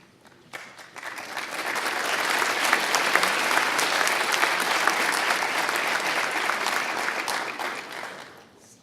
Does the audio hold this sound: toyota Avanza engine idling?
no